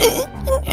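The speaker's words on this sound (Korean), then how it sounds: "고양이도 집에 없는데 왜 기침이 나오지?" A single short, rough cough, close and fairly loud, lasting under a second.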